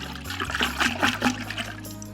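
Water splashing and swirling as a whole-house water filter housing is rinsed out, a close, continuous wet rush with brief surges, no voices.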